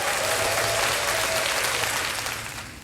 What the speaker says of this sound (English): after this applause.